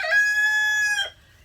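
A rooster on a farm crows once, a loud, close, drawn-out call lasting about a second, followed by quiet.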